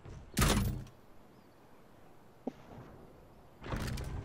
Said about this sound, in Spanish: Escucha, escucha. La puerta.